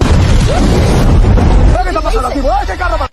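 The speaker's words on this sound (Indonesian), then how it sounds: "satu mobil pengawal pun meledak oleh tentara bayaran" A bodyguard convoy car explodes under mercenary attack in a war film: a loud, rumbling blast fills the opening seconds, then fades beneath a voice speaking.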